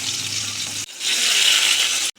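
Paneer cubes frying in hot oil in a kadai give a bright, steady sizzle that briefly breaks off, then resumes loud and close.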